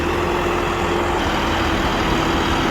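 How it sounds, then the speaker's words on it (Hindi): A tractor with an air-conditioned cabin is driven with its engine running. It gives a loud, steady, close drone with a deep rumble that stays even throughout, and no one speaks. "AC कैबिन ट्रैक्टर का मज़ा ले रहे हैं, ट्रैक्टर चला के देख रहे हैं"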